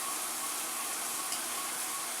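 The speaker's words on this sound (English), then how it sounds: "we're going to go ahead and saute green peppers and onions for right now" Green peppers and onions sauté in hot olive oil with a steady, even sizzle and crackle. The frying stays close and constant, with no voices over it.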